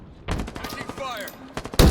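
Bursts of automatic gunfire in the shooter game Halo Infinite crackle in short volleys, mixed with in-game voice callouts, ending in a loud close burst.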